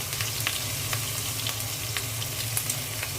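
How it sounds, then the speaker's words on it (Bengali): Onion frying in hot oil in a pan with ginger garlic paste just added, a steady dense sizzle with small crackles throughout, close and fairly loud, no voices. "পেঁয়াজটা হালকা ভেজে নিলাম। এখন আমি আদা রসুনের পেস্ট দিয়ে দিচ্ছি।"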